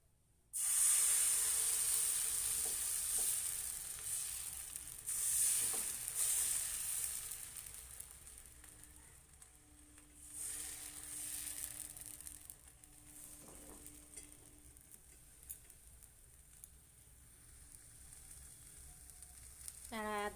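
Gola pitha batter fries in oil in a wok in a dim home kitchen, a steady broad sizzle that swells loudly at the start and then settles into a softer continuous crackle.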